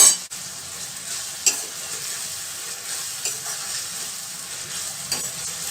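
Chopped green onions fry in a pan for Kathiyawadi-style eggplant bharthu. A continuous close sizzle is broken by a couple of brief clatters from stirring, with no voices.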